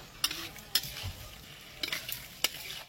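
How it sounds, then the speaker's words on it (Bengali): Potatoes and whole spices with garam masala stir-fried in a pan, a soft sizzle broken by a few sharp scrapes of a spoon against the metal, quiet and close with no talk. "হ্যাঁ, গরম মশলা দিয়েছি, সব মশলাগুলো কষানো হচ্ছে।"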